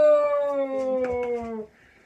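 A dog gives one close, drawn-out howl lasting under two seconds, with a wavering tone that fades out at the end.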